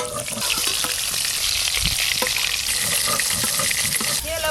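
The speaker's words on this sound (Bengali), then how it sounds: "বেগুনটা ভেজে দিই" Eggplant frying in oil in a pan over a village clay stove, a continuous close hiss and sizzle with occasional small clinks and stirring noises.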